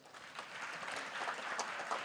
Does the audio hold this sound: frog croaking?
no